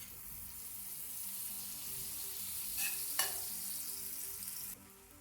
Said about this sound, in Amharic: ሁለተኛውንም እንደዚህ ቅቤ አደርግና አስሳለሁኝ።